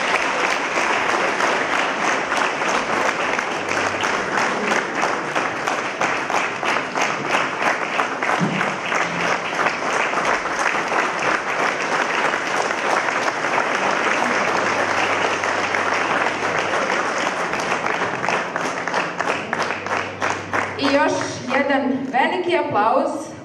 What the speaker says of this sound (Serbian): jednim velikim aplauzom pozdravimo glavne junake filma Ime moje